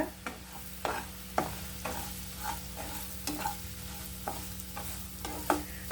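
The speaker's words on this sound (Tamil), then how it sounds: "இப்போ இதில் ரவையை கொட்டிடுவோம் கைவிடாமல் நல்லா அப்படியே கிளறிக்கோங்க" Semolina being dry-roasted for kesari in a pan and stirred continuously: a low sizzle under a regular series of close scraping strokes, roughly one or two per second, from a spoon against the metal.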